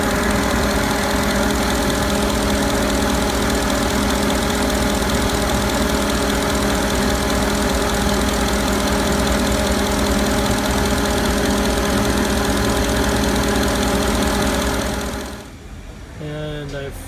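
A 2009 Chevrolet Suburban engine idles steadily after being restarted, a loud, even close-up drone with a faint knocking rhythm, cutting off near the end.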